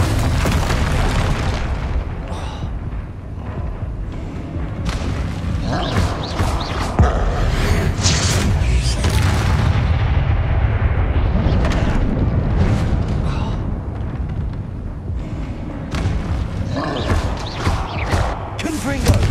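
Spell blasts from Bombarda and Confringo in the Hogwarts Legacy video game boom and crackle one after another, loud and dense with no pause, under game music and effects.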